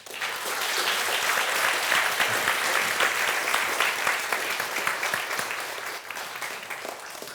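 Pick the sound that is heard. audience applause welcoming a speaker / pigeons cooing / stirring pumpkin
audience applause welcoming a speaker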